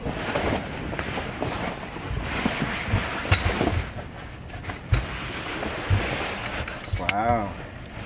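Wind buffets the microphone during a boat ride on a river in the US, with a steady rumble of water and hull beneath. Faint voices come through now and then.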